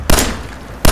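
Two sharp gunshots ring out in the video game Fallout 4, loud and close, about three quarters of a second apart, each a short bang that decays quickly.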